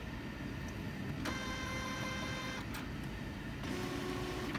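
A DTF printer loads a sheet of glitter transfer film, giving a steady mechanical whir with whining motor tones and a few brief feed clicks and surges, all close and continuous.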